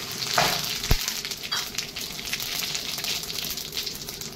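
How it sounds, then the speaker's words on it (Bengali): Bay leaf, dried chilli, cumin and cardamom hitting hot oil in a pan, a loud crackling sizzle that flares at the start then settles into a steady spitting hiss, close up with no voices. "এবার আমি ফোড়ন দিয়ে দেবো তেজপাতা, শুকনো লঙ্কা, আর জিরে মরিচ, আর এলাচ"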